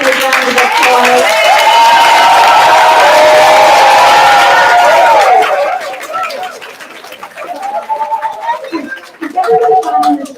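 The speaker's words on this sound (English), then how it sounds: "let's give them a big round of applause" A large audience at an International Confederation of Midwives Congress gathering breaks into sustained applause and cheering for a midwives team, a dense wash of clapping and whoops that fades after several seconds, with voices speaking over the tail.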